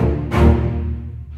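Low strings ensemble from an orchestral sample library, a single brief sustained bowed chord with a rich low register that swells slightly and fades, heard alone.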